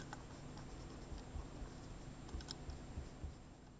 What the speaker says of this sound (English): If I start to erase the parts that I don't need